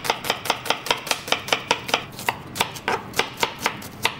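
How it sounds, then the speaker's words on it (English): A knife chops an onion on a cutting board in a fast, even run of about twenty crisp, close, loud strikes, with no talking. "Chop the onion."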